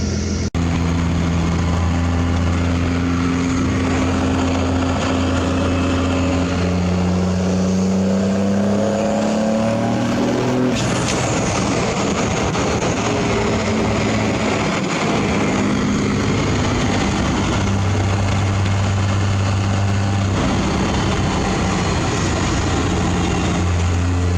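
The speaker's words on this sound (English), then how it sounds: "I will show you guys how this S400 spools, or doesn't spool" First-gen truck engine fitted with an S400 turbo, a loud continuous drone with rising pitch sweeps as the turbo spools, steady throughout without voices.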